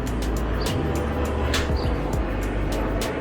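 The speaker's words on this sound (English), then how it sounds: "let the plane pass." A plane passing over a garage being cleaned out, a continuous loud broadband roar with a steady low hum, heard alone without talk.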